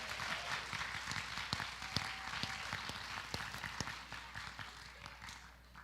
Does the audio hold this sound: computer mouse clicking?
no